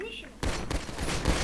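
Video game gunfire bursts out after a quiet moment, a loud rattling volley of shots that keeps going under chatter between players.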